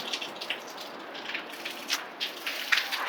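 A steady hiss of running water pours out continuously, with soft splashy bursts rising and falling throughout; no voices.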